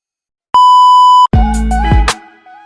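A short steady electronic tone rings out alone, then cuts to a brighter chiming bell-like jingle with a deep thump underneath, loud and close, fading out at the end.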